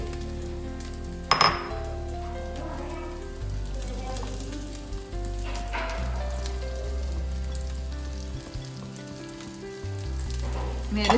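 Small shallots, chopped fine, sizzle steadily in a pan for a homemade kingfish curry, with a constant close frying hiss and a few clinks of a utensil against the pan.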